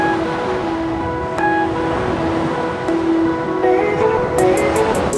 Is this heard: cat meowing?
no